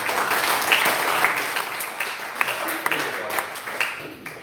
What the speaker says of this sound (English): Well, give yourselves a round of applause.